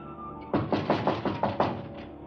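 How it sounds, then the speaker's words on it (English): Six firm knocks on a wooden door in a quick, steady rhythm, close and fairly loud over a low room hum. "he'll be knocking in a second, and you can ask him yourself"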